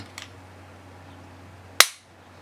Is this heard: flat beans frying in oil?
no